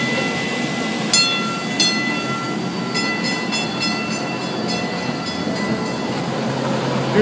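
An MBTA subway train rolls past with a steady metallic roar, sharp clanks of wheels over rail joints, and screeching overtones.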